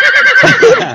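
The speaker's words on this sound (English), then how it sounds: "I love the horse sound." A horse whinnies loudly and clearly for about a second, a single shrill neigh that wavers and drops in pitch near the end, heard alone as a sound effect.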